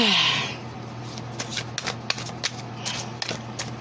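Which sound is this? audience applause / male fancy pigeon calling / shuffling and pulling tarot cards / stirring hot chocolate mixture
shuffling and pulling tarot cards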